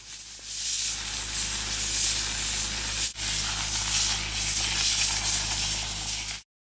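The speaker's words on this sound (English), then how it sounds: "Using this diesel air compressor and high pressure, high volume air from the air spade, we cultivate the soil around the base of the tree." An air spade, supplied by a diesel air compressor, blasts high-pressure air into the soil around the base of a tree, making a loud, continuous hissing roar with one brief break near the middle.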